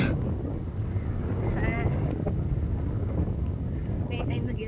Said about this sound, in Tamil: காற்று பயங்கரமாக அடிக்குது.